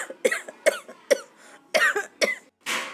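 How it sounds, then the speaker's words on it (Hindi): Loud coughing fit, a series of about six harsh close coughs in uneven bursts, the last one rougher and more drawn out like a throat-clearing hack. "जोर जोर से खांसने लगा।"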